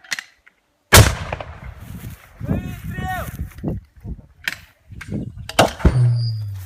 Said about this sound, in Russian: Выстрел!